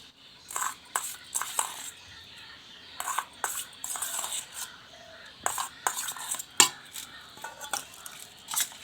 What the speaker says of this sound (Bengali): এবার আমি এই মিশ্রণটাকে কুলে মাখিয়ে নেব।